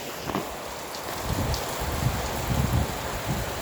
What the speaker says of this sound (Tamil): இங்கே பார்த்தீங்களா, இந்த ஸ்ட்ரீட்டு ஃபுல்லாக மழை.